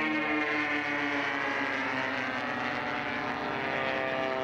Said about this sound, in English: Look at this guy go, and what a profile that airplane presents against the sky.